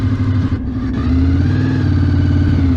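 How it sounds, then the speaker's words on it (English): A motorcycle engine pulls steadily and builds as the rider accelerates out of a left-hand curve, the bike standing up from its lean; a close, continuous mid-pitched drone with no talk over it. "as I accelerate, the bike stands up"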